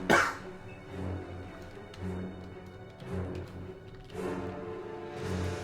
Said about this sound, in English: These coughs aren't getting picked up too much